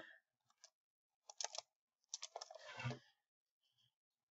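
Computer keyboard keys clicking in quick bursts during a Happy Wheels game session. The sharp clatters come close and fairly loud, separated by short pauses, with no speech.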